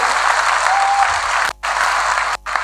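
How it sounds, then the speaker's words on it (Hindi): Loud, sustained applause from a packed hall audience for a speaker, a dense roar of clapping broken by two brief cuts to silence. "मैं चाहता हूं सर का अगर नाम आए एक बार जोरदार ताली होनी चाहिए श्री कुलदीप सर के लिए"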